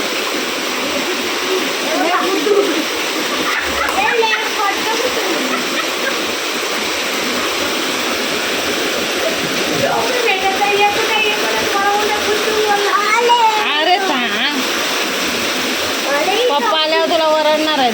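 Heavy downpour with floodwater risen to the steps, a dense, loud, continuous rush of rain and running water throughout, with people talking over it.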